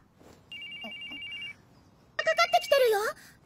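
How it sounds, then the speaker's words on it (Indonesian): A mobile phone rings in an anime with a steady electronic tone lasting about a second, followed by a youthful voice speaking. "Lalu tiba-tiba telepon dari Mitsuki berbunyi"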